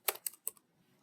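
Four quick keystrokes tapped on a computer keyboard, close and crisp, in two loose pairs followed by a short pause and one more tap, with no talking.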